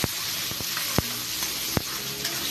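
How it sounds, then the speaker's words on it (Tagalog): Garlic, onion and tomato sauté together in a pan with a steady, close sizzle, broken by a few sharp clicks of a utensil against the pan. "Sote lang natin yun ng sote idol hanggang makuha natin yung aroma."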